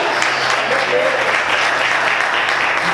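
Congregation applauding in a church service, a steady, dense wash of many hands clapping at close range, with faint voices mixed in throughout.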